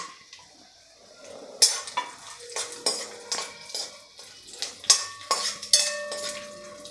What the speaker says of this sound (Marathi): काजू बदाम पिस्ता मनुका आणि चारोळी हे सगळं एक एक चमचा घेतलेला आहे तुम्ही तुमच्या आवडीप्रमाणे घ्यायचं आहे आता हे सगळं आपण तुपामध्ये हलकंसं परतून घ्यायचं आहे